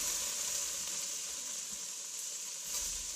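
Chopped onions sizzle in a hot pan just after pork cheeks were browned and removed, making a steady, soft frying hiss that stays even and uninterrupted.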